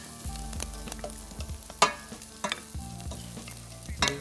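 Herbs starting to cook in a pan ahead of the meat, a steady sizzle punctuated by sharp scraping and clinking stir strokes, close and fairly quiet with no talking.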